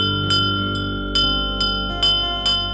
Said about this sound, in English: Kari Tata Rao runs towards the cyclone shelter and rings the bell.